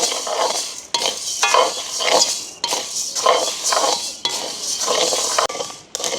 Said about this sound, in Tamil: இப்போ பார்த்தீங்கன்னா உளுந்து வந்து அப்படியே நல்லா வறுபட்டு கொண்டு வந்துடுது